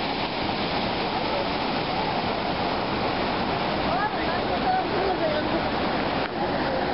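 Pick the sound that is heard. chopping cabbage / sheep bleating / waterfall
waterfall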